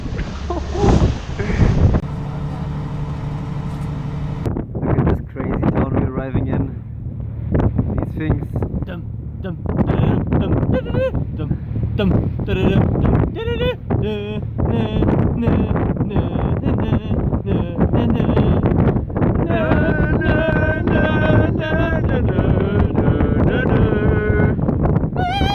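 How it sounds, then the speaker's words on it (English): Strong wind buffets the microphone over rough water and rushing waves on a boat, a loud, constant roar with gusty bursts throughout. "Whoa, the waves are crazy!"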